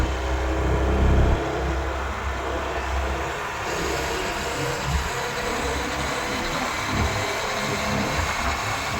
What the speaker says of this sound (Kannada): ಬರ್ತಿದೆ ಫ್ರೆಂಡ್ಸ್ ಬೋಟ್ ಬರ್ತಾ ಉಂಟು